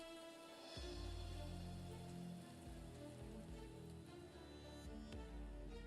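Steady rain falling in the Arknights video game, a soft continuous patter on surfaces with low rumbling undertones, faint and unbroken with no voices.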